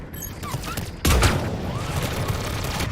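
Gunfire striking the player in the video game Mass Effect 3: a dense, loud volley of overlapping shots with a heavy impact boom about a second in, then continuing rattling fire.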